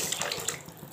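Water pours from a bowl onto raw rice in a pot for chana pulao, a close, steady splashing gush with small bubbling bursts, alone without talk.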